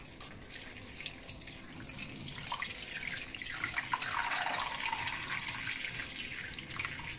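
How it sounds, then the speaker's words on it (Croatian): Tap water runs steadily into a jar for pickling, a continuous splashing stream that swells slightly midway, close and alone with no voices. "Nalijte vodu."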